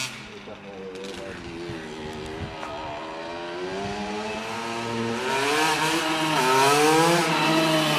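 A KX85 two-stroke dirt bike is ridden nearby, its buzzy engine climbing and falling in pitch through repeated revs and accelerations, growing louder toward the end as it approaches.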